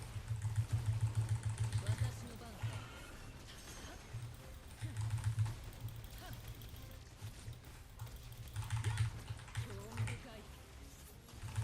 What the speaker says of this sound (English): Keyboard is made of sunstone alloy.